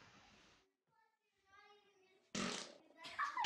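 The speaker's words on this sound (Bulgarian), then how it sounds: "Пръдна ли, бе?" A short, loud fart bursts out amid a group of children, followed by more bursts of noise and kids' voices.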